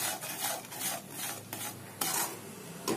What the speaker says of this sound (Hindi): तो अब हम इस ऑनियन टोमेटो को तब तक भूनेंगे जब तक ऑयल ऊपर ना आ जाए।